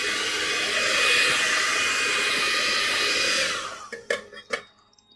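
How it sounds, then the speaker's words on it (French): Electric heat gun blowing hot air to keep a pot of cooking sugar warm while making honey nougat, a steady loud whooshing roar that cuts off after about three and a half seconds, followed by a few brief knocks. "avec mon petit décapeur, je vais maintenir en température ma cuve pour pas qu'elle refroidisse de trop"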